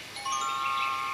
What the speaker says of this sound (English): When it's time to turn the page, you'll hear the sound of the bell like this.